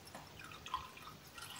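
Homemade broth poured off from a pot through a pasta colander, faint splashes and scattered drips in a quiet kitchen.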